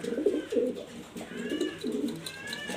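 Pigeons coo in soft, low, repeated throaty phrases close by, with a faint higher bird call and quiet background noise.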